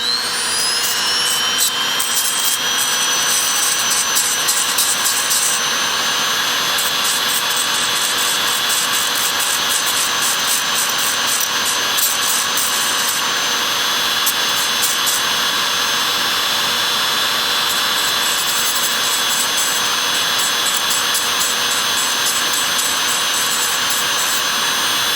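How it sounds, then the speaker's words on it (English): A power tool grinds welded bits of scrap metal smooth on a robot lamp build, making a loud, continuous high whine with gritty rasping flutters that runs unbroken from start to finish, with no talking. "let me grind off the little bits and pieces here, make it look smoother"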